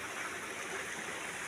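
Creek water flows in a steady, soft rush with a faint gurgle, an even continuous wash heard alone at low volume.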